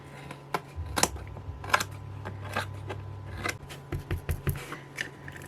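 Scissors snipping around the edge of a craft piece, a run of sharp, close clicks and cuts in irregular rhythm over a low steady hum.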